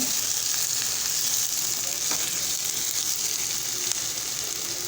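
Onion roasting in a pan for a spicy onion chutney makes an even, close, continuous sizzle with faint scattered ticks, steady throughout.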